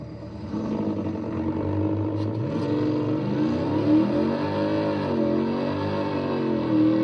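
A supercharged V8 track-oriented automatic sports car with 650 horsepower and a truck accelerate hard off the line in a drag race, a loud sustained engine roar with rising and falling revs across gear changes, close and continuous.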